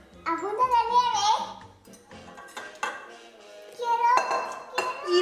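Egg whites being whisked to stiff peaks in a bowl give quick, light metallic clinks and scraping against the bowl, mixed with close talk from an adult and a child.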